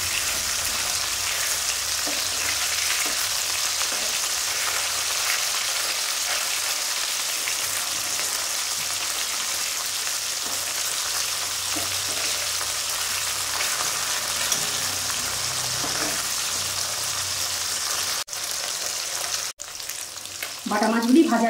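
Flipped bata fish fry in white oil in a hot wok, giving a dense, continuous sizzle like heavy rain, with a few clatters near the end and no speech.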